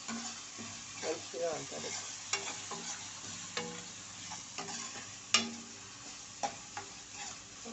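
Ginger garlic paste fries in a pan with a soft, quiet sizzle, punctuated by scattered clinks and scrapes of a spoon stirring, while someone speaks briefly.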